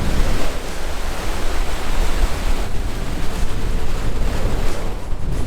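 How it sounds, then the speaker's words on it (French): Big waves crash on the shore at Tommy Thompson Park in Toronto under strong wind, a loud, unbroken roar of surf and gusting wind buffeting the microphone throughout. "Regardez les vagues, ils sont si grandes!"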